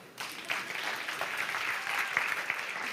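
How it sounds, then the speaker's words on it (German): A congregation at a sermon claps briefly for a young girl named Eva, soft, fairly distant applause that starts abruptly and holds evenly for a few seconds. "Applaus, die Eva."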